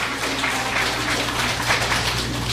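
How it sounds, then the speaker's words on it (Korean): Audience applause welcoming guests during a Sabbath church service: a steady wash of clapping from many hands, fairly even and sustained throughout, over a low background hum. "예, 박수로 환영하실까요?"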